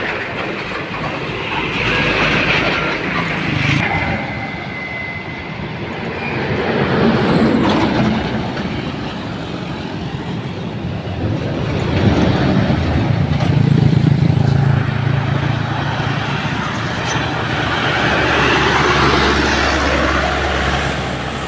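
A loaded Hino 500 dump truck roars past on a road, its engine swelling and fading in several loud waves of rumble mixed with road noise and other passing traffic.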